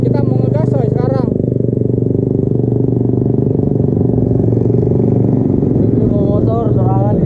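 A modified Suzuki Satria FU motorcycle idles and revs with a steady, loud engine rumble up close, while people talk over it throughout.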